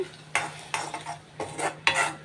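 A spoon stirs turmeric into ridge gourd dal in a pot, making four distinct scraping, sloshing strokes, close and moderately loud with no talking.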